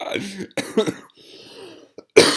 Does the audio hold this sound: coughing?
yes